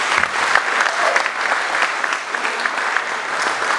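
Guests at a football club's player awards dinner give a loud, dense round of applause, many hands clapping steadily and evenly throughout with no talk over it.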